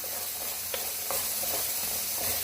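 Beef curry masala sautés in a pan with a continuous close sizzle and hiss. Occasional scraping stir sounds rise above the frying.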